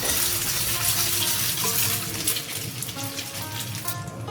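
Beaten eggs sizzle and crackle in a hot wok as they are stir-fried and broken up for curry shrimp and pineapple fried rice, a loud continuous frying hiss with scraping stir noises.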